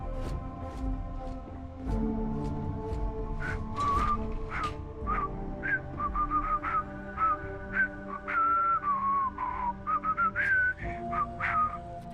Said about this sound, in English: That is the worst whistling through a helmet noise I've ever heard.